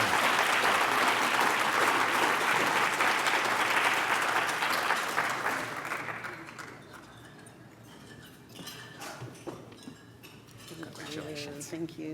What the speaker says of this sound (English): So let's give a big round of applause to Cheryl.